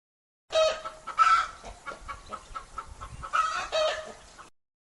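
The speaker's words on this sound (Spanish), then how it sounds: "Gallina." A hen clucks in short, repeated bursts, close and fairly clear, with a couple of louder squawking calls standing out and no speech.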